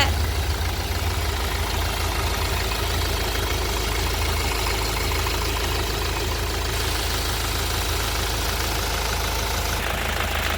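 A 2013 Mahindra Xylo E4 engine idling steadily, a close, even diesel-like chug with a slight knocking texture, running continuously without revving and no voices.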